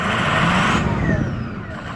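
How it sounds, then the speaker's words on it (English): 2004 Ford F250 Powerstroke diesel truck revved up, giving a loud, close, rough roar. It drops off after the first second into a lower idling rumble with a faint whistle. "asked me if I could rev it up so we could hear the engine"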